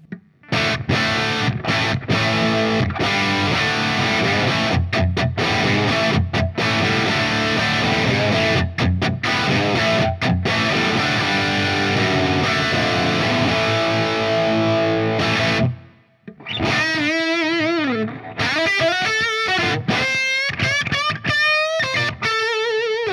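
A heavily distorted electric guitar through a Marshall amp, recorded with a Neumann U47 before a 12-inch Greenback speaker, plays loud chugging chords with sharp stops, then sustained, bending lead notes.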